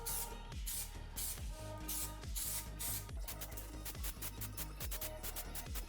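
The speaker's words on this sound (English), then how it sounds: "So now I'm just going to apply some spray contact adhesive to the new layer and also to the foam on" Spray contact adhesive hisses onto seat foam in a series of short, close bursts with brief pauses between them, loud and steady with no talking.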